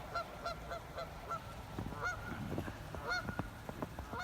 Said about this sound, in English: So we have a Canadian geese, or I guess it looks like just one out there.